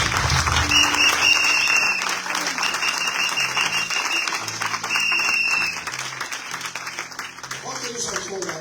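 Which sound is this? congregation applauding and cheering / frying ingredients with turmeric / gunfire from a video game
congregation applauding and cheering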